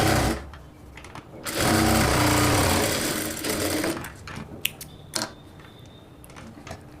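A sewing machine runs single-line stitching on a chudidar pant pocket. The motor hums loud and close in a steady run of a few seconds, then stops, followed by brief clicks and fabric handling.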